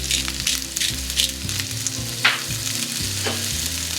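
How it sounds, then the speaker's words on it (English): Onions and mixed vegetables sauté in a pan, a close, continuous sizzle with sharp scraping stirs from a utensil at irregular moments, no voices. "just saute them. Let them sweat a little bit until the onions get translucent"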